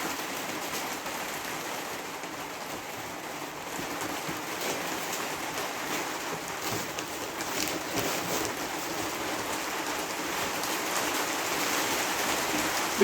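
Steady rain falls around a cabin, a dense, even hiss of drops on surfaces that grows slightly louder toward the end, with no talking.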